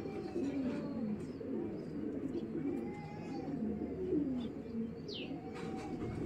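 Racing pigeons cooing softly in a low, rolling murmur that runs continuously, close but quiet, with a few faint chirps and some background noise.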